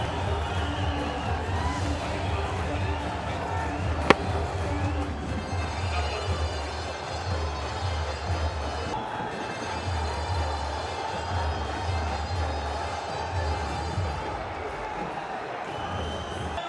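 Cricket stadium crowd at a T10 League match, Pakhtoon vs Maratha Arabians, roaring steadily after a six, a dense, sustained wash of cheering with faint commentary underneath.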